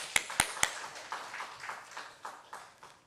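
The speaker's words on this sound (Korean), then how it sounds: "자 하나님께 영광의 박수 올리겠습니다" Church congregation applause at a revival service, a few sharp, loud claps up front followed by a thinner patter of scattered clapping that rises and falls in uneven bursts.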